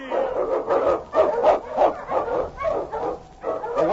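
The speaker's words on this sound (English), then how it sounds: "The Wonder Dog King, swiftest and strongest of Eskimo lead dogs" King, an Eskimo husky sled lead dog in a radio drama, barks in a quick rhythmic series of about ten loud, close yelps and woofs with a thin, band-limited old-broadcast tone.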